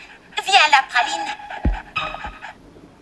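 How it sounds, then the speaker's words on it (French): Cartoon dog panting in short breathy bursts with whimpering whines, close and fairly loud, with a brief thump partway through. "surtout si elle a un chien aussi. Énergique."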